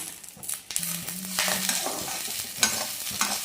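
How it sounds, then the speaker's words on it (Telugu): Food sizzling and frying in a pan while cooking a non-veg curry with garlic, with steady crackling and a few stirring scrapes, close and fairly loud throughout. "ఇప్పుడు ఇలాగా ఫ్రై అవ్వాలి"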